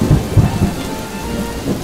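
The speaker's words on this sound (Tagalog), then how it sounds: "Di nagtagal, dumating na ang tag-ulan." Steady rain hisses close by with a deep rumble of thunder rolling underneath, loud and continuous throughout.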